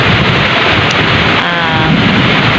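Heavy typhoon rain falls in a loud, dense, steady roar, with gusty wind buffeting the microphone throughout and no voices.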